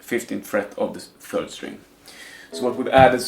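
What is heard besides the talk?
No everyday noise stands out behind the speech.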